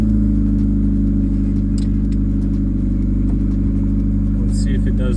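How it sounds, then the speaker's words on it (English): Warm-up idle from a Honda Civic EK engine, with a steady, close, even hum and light clatter throughout, under intermittent talk. "Let's see if it does the hunting idle."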